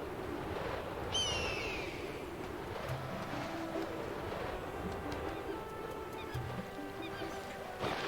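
A hawk's call in Zelda: Twilight Princess HD, a single descending cry heard once near the start over steady ambient game sound with birdlike chirps.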